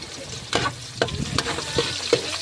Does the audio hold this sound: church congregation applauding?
no